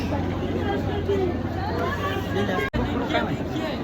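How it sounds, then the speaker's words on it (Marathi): Dense festival crowd hubbub during Pune's Ganpati festival, a steady wash of overlapping voices and chatter with no single speaker standing out, holding constant apart from one momentary dropout. "खूप गर्दी खूप गर्दी"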